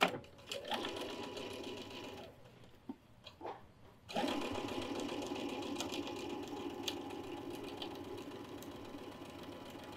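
A sewing machine stitching fabric pieces for a Dresden fan quilt block hums at a steady close-up whir, stops briefly, then runs continuously again.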